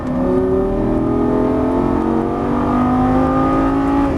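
A Lamborghini Gallardo LP550-2 on a track under throttle, its engine note climbing steadily in a loud, continuous drone that fills the whole stretch with no voices.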